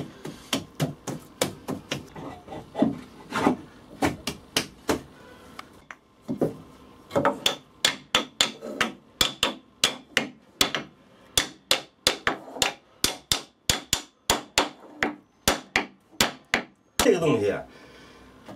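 A traditional Chinese carpenter drives nails into wood with a hammer, giving a long run of sharp, close, regular blows with short pauses between bursts and a brief scraping rustle near the end.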